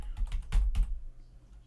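Several quick keystrokes on a computer keyboard sound in a short, close cluster, then a quiet pause.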